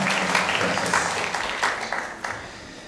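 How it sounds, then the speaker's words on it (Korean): A Korean church congregation claps at a Sunday service to welcome visiting members, a brief, dense burst of many hands close by with a few sharper individual claps. "큰 박수로 환영하겠습니다"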